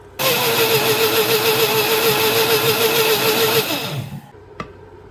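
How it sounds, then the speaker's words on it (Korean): A blender blending chopped celery with 500 ml of water runs with a loud motorized whir steadily for about four seconds, then winds down and stops, followed by a single sharp click. "믹서기에다 이걸 다 넣고 물을 500cc를 넣어주는 거예요"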